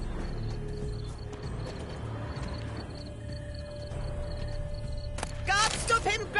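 A horse in the video game The Witcher 3: Blood and Wine gives a sharp, bright neigh near the end, after softer clip-clop hoof sounds and faint mechanical clatter, with game dialogue audible earlier.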